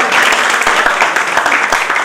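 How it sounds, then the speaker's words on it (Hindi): An event crowd applauds in a brief burst of loud, dense clapping with a few sharper individual claps standing out. "तालियां उनके लिए"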